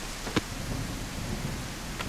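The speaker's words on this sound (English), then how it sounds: "Yeah, the rain is slowing down." Rain falls steadily in the survival video game No One Survived, a continuous hiss with a brief sharp crack near the start and another faint one near the end.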